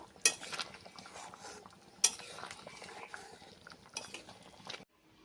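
Pot of veg jol bora curry lifted off the stove, a few sharp metallic clanks and scrapes of cookware, close and fairly faint, ending in quiet.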